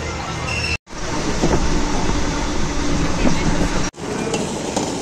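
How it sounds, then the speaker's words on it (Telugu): A passenger train on the Hyderabad to Goa journey rumbles steadily along the rails with faint clickety-clack, loud and close from inside, broken by two brief cuts. "ట్రైన్ పోతుంది"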